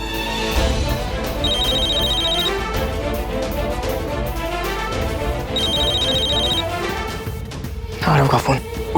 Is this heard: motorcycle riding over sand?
no